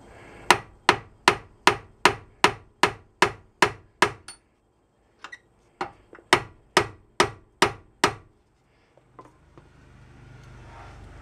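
A hammer strikes a tapered CV axle joint on a Chevy Impala, with about a dozen sharp, ringing metallic blows in an even rhythm, a pause with a couple of lighter taps, then another run of hits, close and loud.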